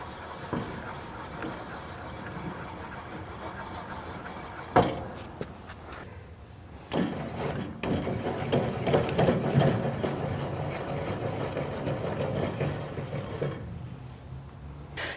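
A blade being raised on a Laguna F1 Fusion table saw and its fence tightened down: a run of ratcheting mechanical clicks and gear-like whirring, with a sharp knock partway through and heavier clunks of the fence locking, fairly close, with no talking.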